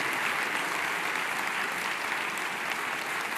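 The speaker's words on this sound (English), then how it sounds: "Give her an applause." A large audience at an International Women's Day gathering in Paris applauds Mrs. Rajavi with dense, unbroken clapping that stays loud and even throughout, with no voices standing out.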